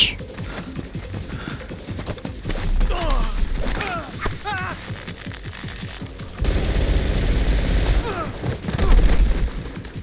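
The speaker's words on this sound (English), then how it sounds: "Just start firing in the air right here." Bursts of gunfire and mechanical clatter in the stealth game Metal Gear Solid Delta: Snake Eater, loud and close with a heavier volley late on, while a person talks over the action.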